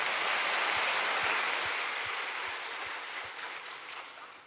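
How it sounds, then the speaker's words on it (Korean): Applause from a church congregation at a Sunday worship service, a dense steady wash of many hands filling the room, slowly fading toward the end, with no talk over it. "하나님께 박수로 큰 영광을 돌리겠습니다."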